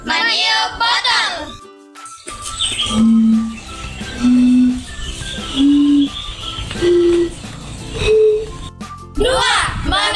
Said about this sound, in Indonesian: Meniup botol.